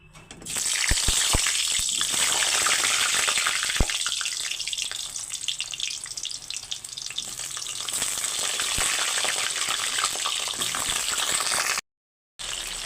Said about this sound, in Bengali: এখন আমরা পটলগুলোকে ভেজে নিচ্ছি